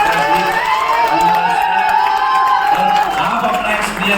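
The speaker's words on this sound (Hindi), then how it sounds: "जोरदार तालियां दीजिए" An indoor crowd at a direct-selling training event cheers, whoops and claps loudly and continuously, a dense roar of voices mixed with applause that fades slightly at the end.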